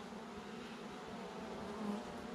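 Honey bees hum steadily during a week-five nuc hive inspection showing signs of swarming, a dense, even buzz from many bees close at hand with no speech.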